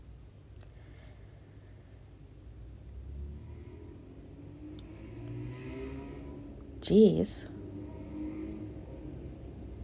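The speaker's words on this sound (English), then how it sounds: "So many cars out today." Faint, distant traffic from cars passing outside makes a steady low rumble that swells slightly midway, under a person talking indoors.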